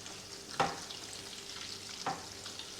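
Butter sizzles and browns in a pan as a steady, soft frying hiss, quiet and close, with two brief scrapes from stirring and no voices.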